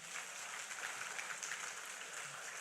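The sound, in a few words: congregation applause in church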